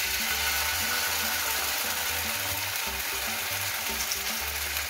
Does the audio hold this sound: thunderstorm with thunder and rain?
no